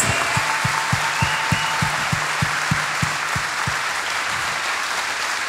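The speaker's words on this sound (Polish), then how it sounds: "Dajcie brawa, jakich tutaj jeszcze nie było!" Festival crowd at Woodstock 2012 applauding rally driver Krzysztof Hołowczyc, a broad steady wash of clapping with a rhythmic low thumping pulse running beneath it throughout.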